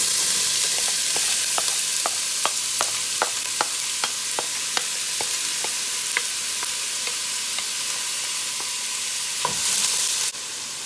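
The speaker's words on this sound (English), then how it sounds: "we are going to saute this to start making the onions translucent" Chopped vegetables sautéing in melted ghee in a pot, a constant sizzle with a run of sharp, evenly spaced clicks and taps from stirring, ending in a brief louder scrape; no voices.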